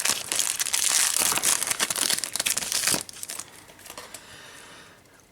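A Yu-Gi-Oh! booster pack torn open by hand, loud close foil crinkling and ripping for about three seconds, then softer rustling of the wrapper and cards before a sharp final crackle.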